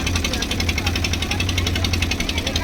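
A ferry boat crossing the Hooghly River runs its engine with a steady, loud, throbbing knock that holds at one level throughout.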